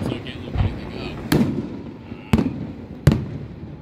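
Large Fourth of July fireworks go off nearby in three or four sharp, booming bursts spaced about a second apart, each trailing into a rumbling decay over ongoing background noise.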